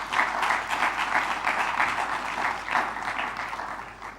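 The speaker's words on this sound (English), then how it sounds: "Let's clap for them." An audience at an African youth company-of-the-year competition opening ceremony claps for young competitors, a fairly steady mid-level round of applause with rhythmic surges, alone without talk.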